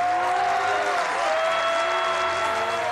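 A theatre audience claps steadily in sustained applause, dense and even throughout, heard from within the audience.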